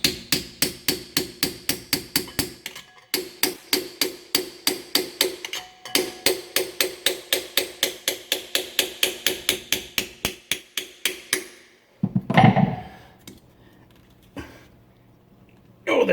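A hammer taps repeatedly on a pond part being repaired, rapid sharp strikes in quick bursts with brief pauses, then a few scattered knocks and handling noises, close and loud.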